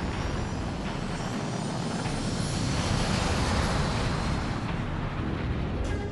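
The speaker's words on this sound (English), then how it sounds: "the F-16 is ready to hit the runway and take to the air" An F-16 fighter jet on takeoff, its engine giving a loud, steady, broadband roar that stays continuous and fairly even for several seconds, with no voices.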